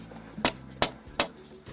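Hammer striking hot steel while forging a blade, three sharp ringing blows at an even pace with a softer fourth hit.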